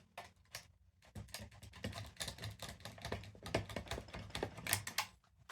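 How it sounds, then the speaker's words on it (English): A Stanley knife cuts through part of a Sears chainsaw during a teardown, making a rapid run of dry clicking, scraping strokes close by, fairly quiet with no talk. "So I'm just going to cut it with a Stanley knife."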